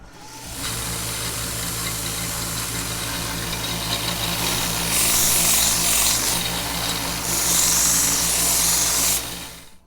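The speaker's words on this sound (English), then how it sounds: "all done with the basic grinding and sanding, the basic shaping." A power grinder and sander shaping a forged kitchen knife blade, a loud continuous motorized whine with steady hum underneath, swelling louder twice as the tool bites harder into the steel.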